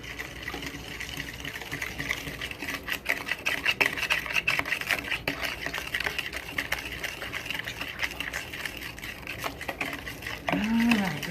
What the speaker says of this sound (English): I brought my whisk and we're just going to whip it up real quick